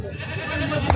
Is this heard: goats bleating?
yes